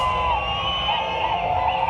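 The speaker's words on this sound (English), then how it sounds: "you can hear the crowd is really starting to get all hyped up" Dense crowd noise at a Singapore New Year's Eve countdown before the fireworks, a steady, loud wash of many voices with shouts and whoops rising over it throughout.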